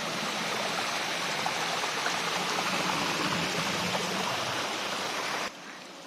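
Babbling mountain stream near Sri Getuk waterfall in Gunung Kidul, Jogja, with water flowing through rice fields, a steady close broadband rush and trickle that drops abruptly to a quieter level near the end, with no voices.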